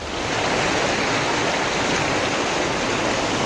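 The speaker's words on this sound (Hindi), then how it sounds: "पहाड़ से होकर अब भी मटमैला पानी अपना रास्ता बनाते हुए आगे की तरफ बढ़ रहा है" Muddy floodwater pouring down from a mountain in monsoon flooding, a steady dense roar of rushing water that fills the whole clip, loud and unbroken, with no voices.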